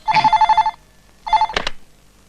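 A telephone rings close by in two bursts of rapid trilling bell, the second shorter and followed by a brief clatter, then quiet.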